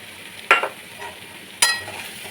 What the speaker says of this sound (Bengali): এই টক দইটা দিয়েও এবার খুব সুন্দর করে মেশাবো।